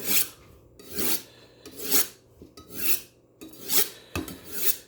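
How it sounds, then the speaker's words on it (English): A kitchen knife honed on a steel, with about six rhythmic rasping strokes that swell and fade at a steady pace, close and clear, with no voices. "just hone it before you use it every day."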